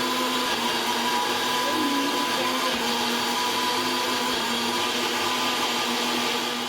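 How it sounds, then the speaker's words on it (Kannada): A mixer grinder whirs loud and continuous at close range, grinding dal and tamarind into a paste for obbattu saaru, with a steady high motor drone throughout and no pauses. "ಇದನ್ನೆಲ್ಲ ತರಿಯಾಗಿ ಗ್ರೈಂಡ್ ಮಾಡ್ಕೊಳ್ಬೇಕು. ಅದು ಕೂಡ 1 ಸ್ಪೂನಷ್ಟು ಹಾಕ್ಕೊಂಡು ನೀಟಾಗಿ ಮಿಕ್ಸಿ ಮಾಡ್ಕೊಳ್ಬೇಕು."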